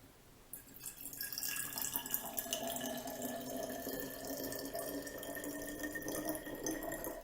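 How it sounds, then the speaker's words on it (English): Tap water runs steadily into a glass bottle, a continuous splashing gurgle that starts abruptly and fills the whole stretch, close and fairly quiet with no one talking. "I'm going to add in some water."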